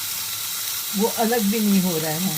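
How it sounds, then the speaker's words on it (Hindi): A thin portion of minced doner kebab meat fries in a pan with a steady, moderate sizzle and hiss, while someone talks over it for most of the clip. "अब मैं ये दूसरा पोर्शन रख रही हूँ फ्राई करने के लिए"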